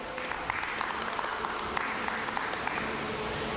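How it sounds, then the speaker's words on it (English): Steady applause from an audience at a climbing championship final, a dense wash of clapping hands that holds at an even level from start to finish. "So let's give them all a round of applause."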